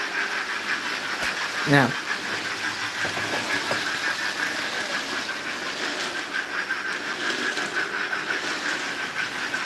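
A model railway themed train runs on its track with a steady whirring hiss and faint rattles throughout, while a person talks over it.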